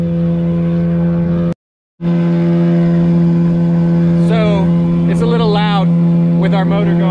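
Sailboat motor running steadily while motor sailing across the Gulf Stream in the Bahamas, a loud, even droning hum with a brief cut to silence, and people talking over it later.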